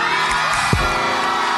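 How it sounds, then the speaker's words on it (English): A concert audience at a Pantene Pro-V Pro Voice show screams and cheers in a dense, continuous roar, with one brief low thump partway through. "so I want to hear y'all scream for them for me"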